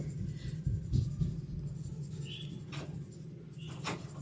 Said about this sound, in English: So I'm still going to use the HB pencil just to darken